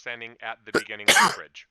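A sharp, breathy sneeze bursts out near the end, just after a person speaks, loud and close.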